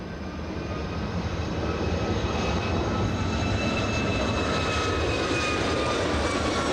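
Boeing 757 airliner landing at Los Angeles International Airport, a steady, loud jet engine roar with a rising whine, heard from nearby and continuing throughout without voices.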